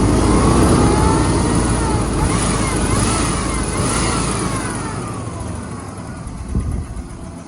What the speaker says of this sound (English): the engine's got a pretty bad miss